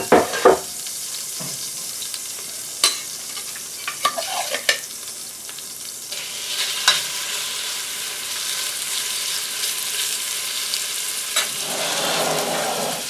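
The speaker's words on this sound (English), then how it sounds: "Just give them a little flash fry in the pan." Beef pieces flash frying in a hot cast iron pan on a stove, a steady bright sizzle with scattered clanks and scrapes of stirring, swelling louder toward the end, no voices.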